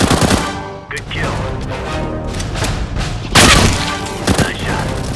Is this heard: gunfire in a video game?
yes